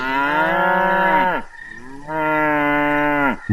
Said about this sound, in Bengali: গেরস্থ বাড়ির গোয়ালগুলোতে গরুগুলো এমনভাবে হামলাচ্ছে যে মনে হয় ওরা অশুভ কোনো ইঙ্গিত পেয়েছে